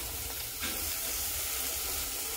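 Sprouted brown vaal beans tipped into a hot pan of oil over low gas, giving a steady, close, dense sizzle that swells slightly as they land and then keeps a continuous crackling hiss.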